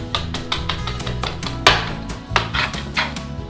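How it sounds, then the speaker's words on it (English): Knife chopping shrimp curry ingredients on a cutting board, a run of close, sharp rhythmic chops with a couple of heavier strikes, no talking. "We'll just chop a couple more."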